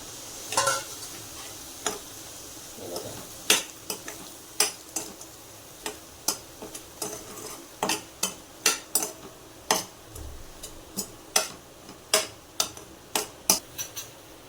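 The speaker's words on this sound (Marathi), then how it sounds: "आता आपण रवा भाजून घेऊया तुपातच" Semolina roasting in ghee in a new kadhai, a spoon clicking and scraping against the pan in sharp, repeated strokes over a faint sizzle, with no talk.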